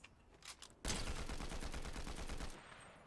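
Automatic gunfire in the video game Fortnite, a rapid burst of evenly spaced shots that starts abruptly and lasts about two seconds, loud and close, after a few quieter sounds.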